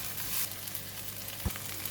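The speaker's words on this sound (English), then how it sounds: "So I was stir frying for about 1 minute" Vegetables for egg fried rice sizzle and crackle steadily in a hot wok while being stir fried, with a brief scrape near the end and no talking.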